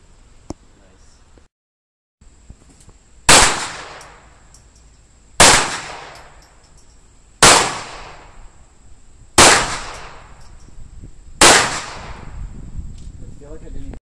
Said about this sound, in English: this is actually a target pistol, so barely any kick